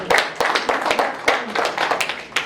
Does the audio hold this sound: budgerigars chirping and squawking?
no